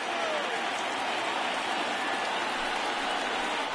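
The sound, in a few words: stadium crowd cheering on their feet, MLB The Show 19 video game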